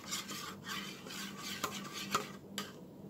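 A spoon scrapes and clinks against a pot or bowl while condensed milk is stirred into Jamaican carrot juice Guinness punch, with a rhythmic rasping swirl and a few sharper metallic taps.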